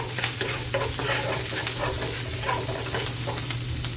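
Onions frying in coconut oil hiss in a steady, loud sizzle with scattered crackles and the scrape of stirring, continuous throughout with a low hum beneath and no talking.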